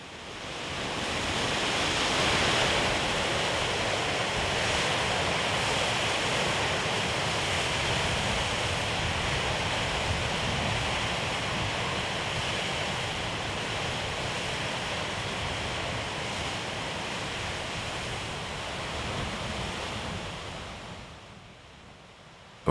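Atlantic waves surge in a rocky cliff hollow at the foot of a 20-metre drop on the Portuguese coast, a steady rushing roar that continues throughout and fades away at the end.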